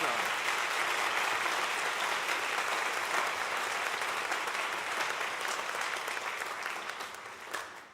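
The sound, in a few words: audience applause after junior high music camp performance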